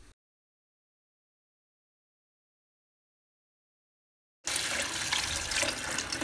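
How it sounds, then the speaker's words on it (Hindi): Water from a jug pours into a pressure cooker holding beef for nihari: a short splash, a few seconds of silence, then a steady rushing pour that continues to the end. "यहाँ पे तकरीबन 1 जग इसके अंदर पानी डाल के प्रेशर कुकर को बंद कर दिया"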